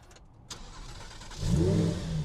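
A car engine being warmed up cranks and catches, then rises into a louder, throaty rev close by, with no voices.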